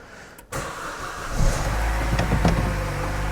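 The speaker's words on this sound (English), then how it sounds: "I'm going to start the car. I'll let it warm up, do a little bit of revving." A Chevy Cruze engine, suspected of a head gasket issue, cranks and catches, then settles into a steady, fairly loud idle.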